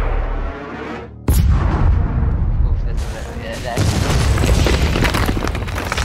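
Cannon blasting into the surface of Mars in Doom Eternal: a sudden heavy boom after a brief hush, followed by sustained rumbling blast noise and a second surge of roaring fire.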